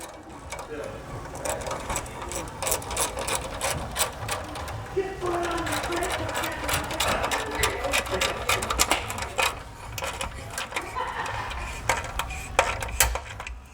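A 1/4 inch drive ratchet with a 7/16 socket clicks rapidly and almost continuously while tightening a slip-on exhaust bolt on a Polaris Ranger 1000 XP, with metallic handling noises mixed in nearby.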